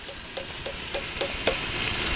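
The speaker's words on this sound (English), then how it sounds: "Look at those beans boiling away." Black beans boil in a pot, faint bubbles popping in a steady, evenly spaced rhythm over a soft simmering hiss.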